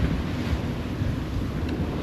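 Open-sea wind buffets a microphone over ocean waves in stormy conditions with 3 m swells, heard as a loud, continuous low rumbling roar with gusty fluctuations and no voices.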